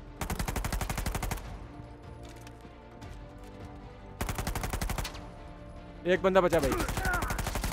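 Rapid automatic gunfire and sniper shots from the video game Uncharted 4, loud close bursts repeating in two long volleys and then heavier blasts, with a voice talking briefly between them.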